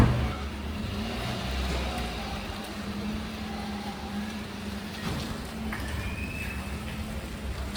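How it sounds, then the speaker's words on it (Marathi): Family four-wheeler pulling away on a day trip to Dindeshwar Mahadev temple near Bhiwandi, a steady low engine drone with road noise that holds evenly throughout, fairly close and with no talk over it. "चला ही गाडी तर आपली निघाली पुढे"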